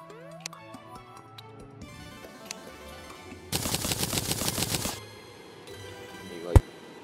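A sharp burst of rapid enemy gunfire in Terraria rattles for about a second and a half, among game music and effects, followed later by a single loud crack.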